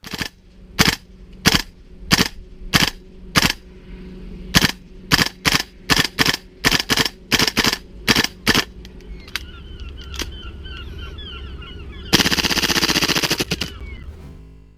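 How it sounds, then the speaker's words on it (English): Gas airsoft M4 rifle, a Tokyo Marui or GHK model, fires BBs from its magazine in sharp, loud, close single shots at an uneven pace, ending in weaker pops and a burst of hissing gas as the magazine runs out. "let's see how many BBs we actually fire through this magazine."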